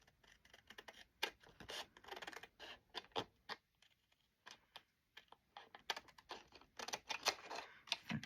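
Scissors snipping through paper while trimming pieces for a handmade sunflower journal, a quiet, close series of irregular crisp cuts and rustles with short pauses between them.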